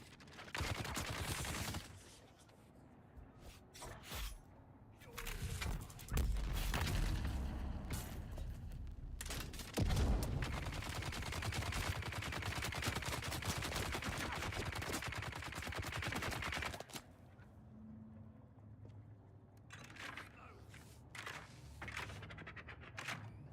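Rapid machine gun fire from the Dune Awakening video game, starting in scattered bursts and then swelling into a loud, sustained stretch of dense shooting mid-clip before easing back to sporadic shots.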